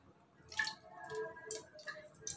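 Oil poured into a heated pressure cooker on a gas stove while cooking mutton egg biryani: faint, soft splashing with scattered small crackling pops and ticks that come and go.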